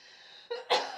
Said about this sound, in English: Hold on, I'm going to cough real quick.